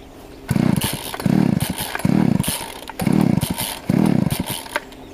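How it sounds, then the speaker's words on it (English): A chainsaw with a carburetor being tuned is pulled repeatedly, giving five rhythmic bursts of sputtering engine turnover spaced about a second apart, with no sustained running. "I'm going to start this up."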